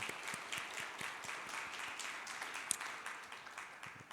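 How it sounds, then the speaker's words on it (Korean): Soft, distant applause from a church congregation encouraging a deacon's recovery after surgery, a faint even patter of many hands with scattered sharper claps throughout. "한번 박수로 격려해 주시면 좋겠습니다"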